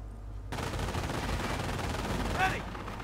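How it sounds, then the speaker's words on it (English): Gunfire in the video game Company of Heroes: dense, continuous rattling battle noise with bursts of shots, a brief whistling sweep near the end, with game voices mixed in. "Taking fire."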